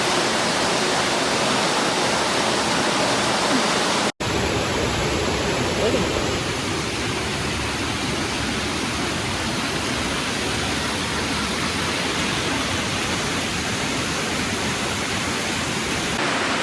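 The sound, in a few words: waterfall and stream of water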